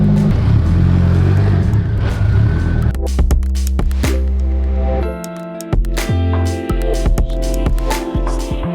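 A slightly smoky project car runs and drives, its engine rumbling and revving up close with clattering mechanical noise, the tone dropping and shifting partway through as it moves off.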